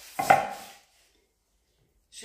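A knife slices fresh figs in half on a board. A single crisp cut lasts about half a second and is followed by silence, with a faint start of another sound at the very end.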